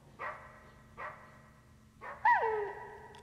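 Dogs barking in the 1998 Metal Gear Solid video game: three separate single barks about a second apart, the last louder with a falling yelp-like tail, over a low steady game hum.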